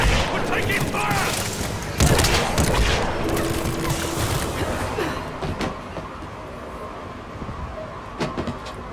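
Gunfire erupts in a chaotic Mass Effect Legendary Edition combat scene on Earth, with dense overlapping shots and booms over a constant roar of action, loudest early on and thinning slightly toward the end, with scattered sharp bursts throughout.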